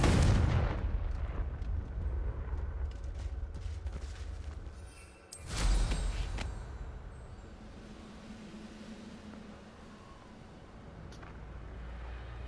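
A Confringo fire spell blasts in Hogwarts Legacy, two loud booming explosions with rumbling tails, the second erupting midway before fading into low ambient rumble.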